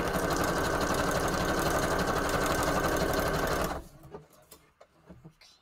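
A sewing machine runs steadily, stitching through paper for a Christmas paper craft, then stops abruptly, leaving a few faint clicks and handling sounds.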